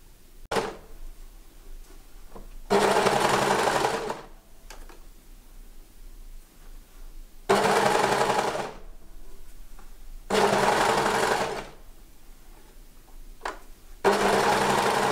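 Sewing machine stitching ribbed cuffs onto the sleeves of a baby wrap jacket, running in three loud, steady bursts of a few seconds each, separated by quieter pauses with small handling clicks.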